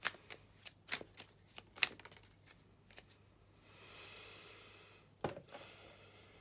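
Tarot cards being shuffled and tossed around, heard as a quick run of crisp snaps and flicks followed by a soft riffling swish and one more sharp snap, close and fairly quiet.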